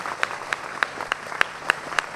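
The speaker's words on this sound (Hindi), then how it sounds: "तालियां बजाएं एक बार फिर से" Hand claps from a yoga class audience ring out in a slow, even rhythm, about seven crisp beats in a row, fairly close and without any talking.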